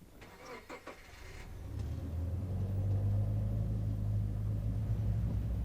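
A car engine in the Hitch Hiker mystery game starts with a few clicks and a turn of the ignition, then settles into a steady, loud low rumble that idles on to the end.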